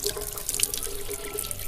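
Water is splashed gently onto the face during ablution washing, soft close splashes and trickles with a faint running-tap background, brief and quiet.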